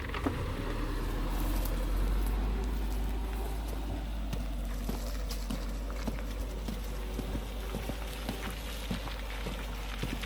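A 4x4 in low range creeping down a muddy slope under hill descent control, a steady low engine drone at about 5 km/h with irregular wet squelches and knocks from tyres and suspension, constant and fairly close.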